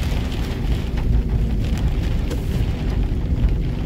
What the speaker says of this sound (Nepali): घनघोर पानी छ, घनघोर पानी छ मिरिकमा